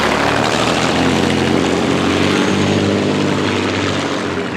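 A Rolls-Royce Merlin engine powers a racing boat at a lake race meet, roaring loud and close in one continuous, dense, throbbing drone with no voices over it.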